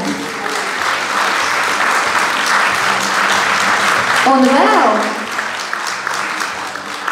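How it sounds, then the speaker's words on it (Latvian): Applause from an audience at a cultural centre anniversary celebration for a folk dance group, steady clapping throughout with a speaker's voice over it and a brief sung or spoken phrase near the end. "Aplausi Ārijai!"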